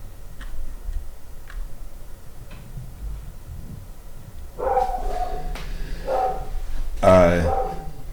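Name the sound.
dog whining and barking while being fed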